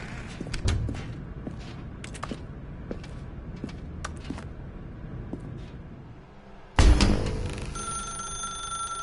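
A telephone rings in The Stanley Parable: Ultra Deluxe, a bell-like burst starting late and continuing steadily to the end, preceded by quiet footsteps and soft thuds in a dim room.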